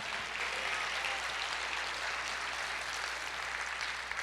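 Steady broadband clapping from a congregation during a church service, with an even wash of many hands sustained throughout and no voices over it.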